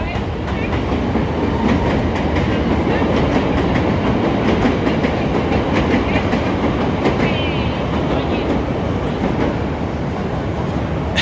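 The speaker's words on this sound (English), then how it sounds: "I hear the train coming, so let's just wait here." Another train passes close by in foggy downtown Chicago, a loud sustained rumble with rapid clickety-clack of wheels on rail joints, no talking over it.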